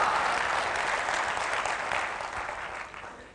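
An audience at a sales training seminar claps steadily, a dense, continuous burst of applause that slowly fades toward the end.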